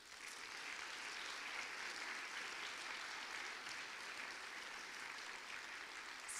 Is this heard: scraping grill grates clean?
no